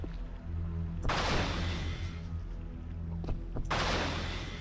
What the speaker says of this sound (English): Can't believe I'm sniping with a dispersion pistol.